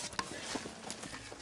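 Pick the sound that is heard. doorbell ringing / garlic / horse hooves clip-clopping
horse hooves clip-clopping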